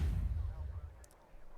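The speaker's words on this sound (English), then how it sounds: "Listen up for those cannons." Ship cannons firing in the space game Elite Dangerous produce a deep, muffled boom at the start that rolls off into a low, fading rumble, fairly faint overall.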